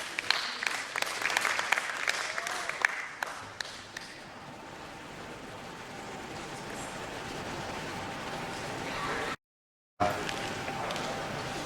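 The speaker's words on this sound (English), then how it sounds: "a warm welcome to him with a round of applause" Scattered audience applause at an investor education event, a few seconds of clapping that quickly thins into a low room murmur, with a brief dropout of silence near the end.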